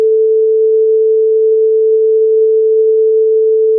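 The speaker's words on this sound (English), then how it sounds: "we are going to listen the sound of another wave whose frequency is also 440 hertz" A pure, steady 440 hertz sine tone formed by two combined waves of equal frequency holds at constant loudness for the whole stretch, clean and unwavering with no other sound.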